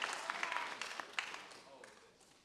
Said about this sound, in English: Please give a round of applause to everyone who's on stage right now.